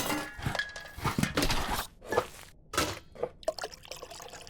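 Tamarind water being poured into a bowl in the cooking game Venba, a few short splashing, trickling and dripping bursts with light clinks of dishware between quiet gaps.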